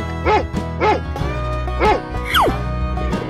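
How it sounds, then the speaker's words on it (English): Cartoon dog barking in a children's animal animation: three short, spaced woofs over background music, with a falling whistle-like sweep between them. "Dog."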